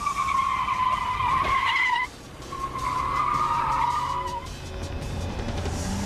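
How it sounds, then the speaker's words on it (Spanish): A car shoved on its rear bumper at a defensive driving school skids and spins out, its tires letting out a loud, sustained squeal that breaks off briefly and then returns in a second long screech. "Voy a acercarme a ese coche y le voy a golpear en el parachoques trasero para que empiece a dar vueltas"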